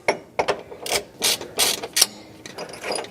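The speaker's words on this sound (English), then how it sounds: "Loosening up the second transmission mount bolt." A ratchet loosens a transmission mount bolt on a Porsche 911 3.2 Carrera, producing quick, loud bursts of clicking pawl strokes in an uneven rhythm, close up and with no talk.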